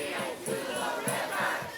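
Protest crowd gathered on Melrose Avenue outside the Courtyard by Marriott hotel, a loud dense mass of voices chanting and shouting in steady rhythmic bursts, heard close and continuous.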